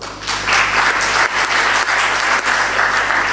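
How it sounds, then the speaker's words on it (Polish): A concert audience in Radzyń Podlaski applauds at a promotional concert, with a full, even wave of clapping from a large crowd that continues loud and unbroken. "brawa."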